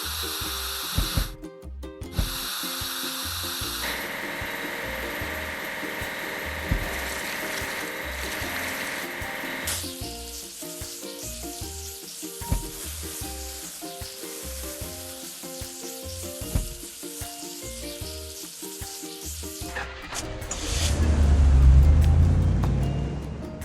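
Truck-washing sequence in a kids' track-building game, where a drop side truck is cleaned with bright sizzling spray and mechanical whirring effects over a looping cheerful tune, ending in a low swell.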